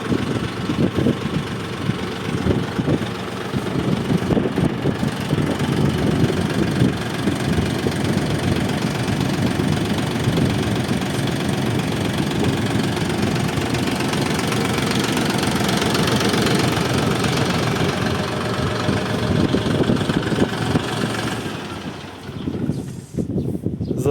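A new DTZ 354U 35 hp tractor engine idles nearby with a loud, steady, knocking diesel chug for over twenty seconds, then it cuts out near the end.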